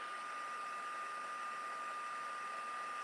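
A crafting heat tool blows hot air during partial dry embossing on paper, producing a steady, fairly quiet whirring hiss with a faint high whine that holds constant for about three seconds.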